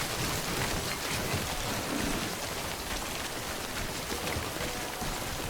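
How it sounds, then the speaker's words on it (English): Steady, unbroken rainfall in the video game Death Stranding, a dense hiss of drops on the surfaces all around, fairly loud and continuous throughout with no voices. "How long is it gonna rain here?"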